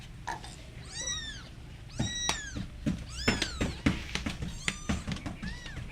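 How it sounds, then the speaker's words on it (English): Hungry three-week-old kittens meow repeatedly up close, high, wavering cries overlapping one another in a quick, irregular series against faint background noise. "And you can see Chichi want to drink milk."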